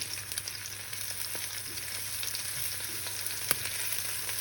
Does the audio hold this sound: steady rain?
no